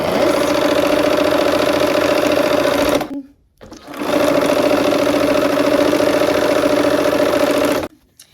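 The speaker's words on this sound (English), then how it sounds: "let's go ahead to the machine and sew these pieces together" A sewing machine runs in two long steady bursts stitching quilt block pieces together, with a brief stop between them and no talk.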